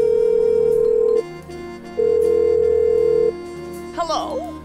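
Telephone call in the point-and-click game Blackwell Unbound: two long, loud steady ringback tones separated by a short gap, followed by a brief burst of dialing or line noise near the end.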